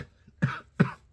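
Two short coughs, about half a second apart, fairly soft and close, with quiet between them.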